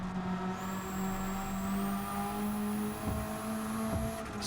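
A powerful race car engine in a driving video game drones and rises in pitch as it accelerates out of a corner, a steady near whine climbing smoothly before easing off.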